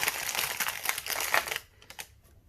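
Small pieces of crushed glass are sprinkled into a deep resin mold for a 3D resin fish bowl aquarium, making a close, dense crinkling patter for about a second and a half before it thins to a few scattered ticks.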